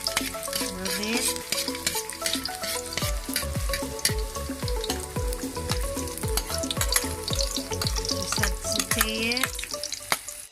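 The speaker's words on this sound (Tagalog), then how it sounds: "Now we're gonna saute the onion and the garlic" Onion and garlic sauté in a pan, probably for adobong kangkong: a steady sizzle runs throughout, broken by regular scraping strokes of a spatula stirring against the pan, up close with no talk.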